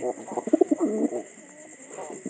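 Pigeons coo in a pigeon house, several soft, throaty rolling calls clustering in the first second and returning faintly near the end, close by over a steady high background hum.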